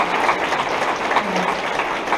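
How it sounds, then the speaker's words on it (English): A town hall audience bursts into applause, a brief burst of dense, even clapping filling the room. "Could we have a round of applause for our two"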